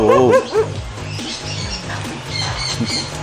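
A dog barks and yips at close range, with a few sharp high barks at the start followed by softer whimpering yelps, heard alone.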